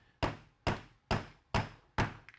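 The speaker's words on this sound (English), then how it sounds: "you're going to finish hammering the insert" Five evenly spaced hammer blows drive a wooden insert into the corner of a chopped floater frame, each a sharp close knock with a short decay and no talk over it.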